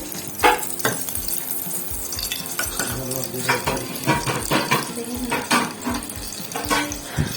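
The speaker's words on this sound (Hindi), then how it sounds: "इसको अच्छे से गर्म होने देंगे देसी घी को।" Desi ghee heats in a pan with a steady crackling sizzle, broken by the clink of a spoon stirring and scraping against the metal, close and fairly loud.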